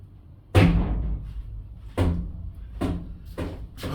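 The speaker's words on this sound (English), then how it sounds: "Let me open this door again." An indoor door is opened and handled, giving a solid thump followed by several lighter knocks and rattles, close and fairly loud against a quiet room.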